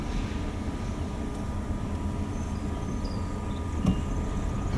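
Freight train cars, including Conrail and RF&P box cars, roll past in the Richmond, Virginia area with a steady low rumble and rail noise, one brief louder clunk near the end.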